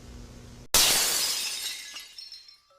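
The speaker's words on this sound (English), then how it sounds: "Every shard of shattering glass marks the moment something inside Barachiel breaks" Glass shatters in the video game Angel Engine: a single sudden loud crash after a brief quiet moment, followed by shards tinkling and scattering as the sound decays over a couple of seconds.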